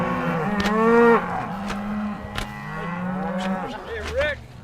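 Cattle moo repeatedly at a farm as cows and calves are sorted for loading onto a cattle liner, several drawn-out calls overlapping near and farther off, with lower bellows running underneath.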